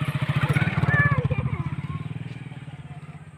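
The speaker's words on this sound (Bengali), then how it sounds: "তো দেখুন একটা বাইক যাচ্ছে" Motorbike passing on a narrow village road, its pulsing engine thrum close and loud early then fading away, while a person talks over it.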